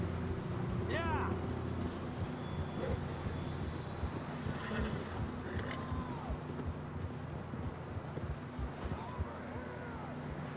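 Horses in Red Dead Redemption 2 whinny several times over a windy outdoor bed, with occasional hoof clops and people talking in between.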